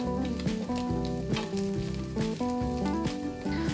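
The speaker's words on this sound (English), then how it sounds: "heat the oil in a large non-stick frying pan and stir in the garlic and vegan strips" Garlic and vegan strips fry in oil in a large non-stick pan over medium-high heat, giving a steady low sizzle that sits under prominent music throughout.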